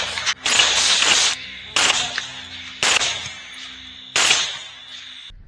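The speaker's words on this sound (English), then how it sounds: "I quickly raised my rifle and fired off several rounds." Rifle shots ring out during a wild boar hunt on a US farm. Four loud, sharp reports come at irregular intervals, each followed by a long ringing decay.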